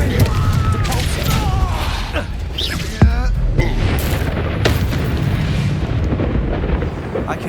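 Depulso spell blasts in Hogwarts Legacy, booming magical bursts amid a busy combat mix of whooshes and crackles, with a sharp impact near the middle and voices over the action.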